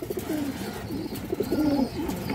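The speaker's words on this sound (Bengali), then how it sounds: "খুব সুন্দর একটা মাদি কবুতর" A female pigeon coos nearby in a steady run of low throaty, rolling calls, with a few faint chirps in the background and no voices.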